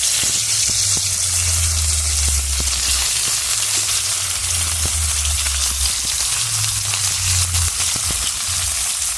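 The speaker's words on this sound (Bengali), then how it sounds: "কড়াটা গরম হয়ে গেছে তেলটা গরম হয়ে গেছে মাছটা দিয়ে দেবো" Fish frying in hot oil in a wok gives a loud, steady sizzle with crackling and spitting all the way through, close and unbroken, with no talking over it.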